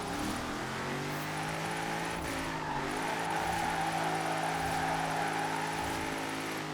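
A Nissan R32 racing at high speed in Forza Horizon 4 gives off a steady, loud engine drone with a smooth, sustained tone and no break.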